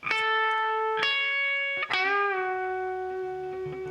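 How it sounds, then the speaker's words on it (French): An isolated electric guitar solo from a rock song, played with effects and light reverb: a few sustained, ringing notes, each picked sharply, with a bend and vibrato on the last long tone. It plays alone, with no talking. "Je vais te faire écouter le solo de guitare tout seul pour que tu entendes ce qu'il joue"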